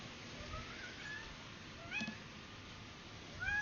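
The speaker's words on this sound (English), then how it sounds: "That kitty sounds like they need a kiss." A cat meows several times, faint and somewhat distant, with short rising and falling cries over a quiet room background; no one talks during them.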